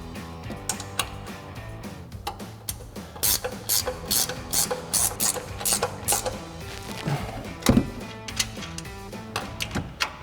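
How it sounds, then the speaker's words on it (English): A 15 mm ratchet wrench tightens the three upper strut nuts on a RAM 1500 front strut assembly, a close, loud run of rapid clicking bursts in irregular spurts with short pauses between. "we'll come in and tighten up our 3 upper nuts with our 15 millimeter ratchet wrench"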